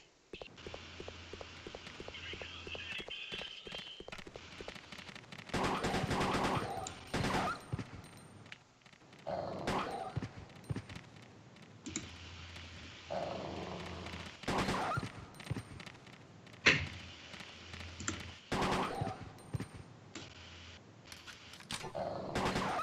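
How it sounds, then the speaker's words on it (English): Gunfire in Resident Evil Code: Veronica on the Dreamcast as zombie dogs are shot, bursts of sharp shots and rapid fusillades in uneven clusters, loud against quieter stretches, with people talking in between. "I'm shooting dogs, but they're zombie dogs."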